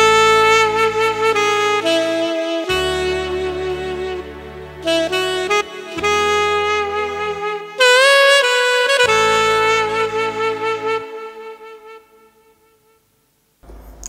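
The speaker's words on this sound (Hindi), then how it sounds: "एक और सैक्सोफोन है।" Saxophone tone on a Korg PA series arranger keyboard, a melodic reedy line of held and sliding notes over low sustained accompaniment chords, loud and close, fading out at the end.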